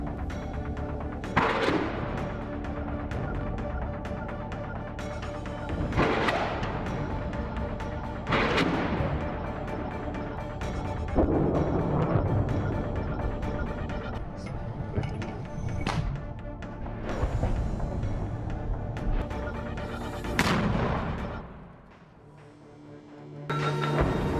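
Combat footage with rocket launches and explosions against a tank gathering, several heavy booming blasts spaced out over a steady loud rumble, with a few background voices.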